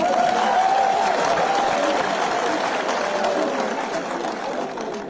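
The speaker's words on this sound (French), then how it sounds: "je tiens à ce que vous applaudissiez tous les journalistes qui se sont mobilisés aujourd'hui" Sustained applause from a large audience at a rally held as a people's trial against Françafrique, dense clapping with crowd noise throughout, easing slightly toward the end.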